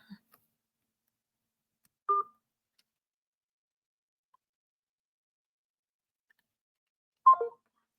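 A few sparse telephone dialing tones during a phone call, short isolated beeps separated by long silences, close and quiet.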